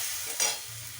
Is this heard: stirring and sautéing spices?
yes